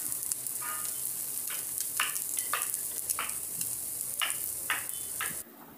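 Appe (fasting-style appe) fry in oil in an appe pan, giving a steady bright sizzle with soft repeated scraping or tapping touches as they are turned, until the sound drops away near the end.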